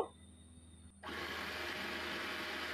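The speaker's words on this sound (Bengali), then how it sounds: "এখন আমি ব্লেন্ডার করে ফিরে আসব।" An electric blender runs on pointed gourd bharta with roasted cumin and salt, kicking in after a second of quiet and then holding a steady, close whirring drone.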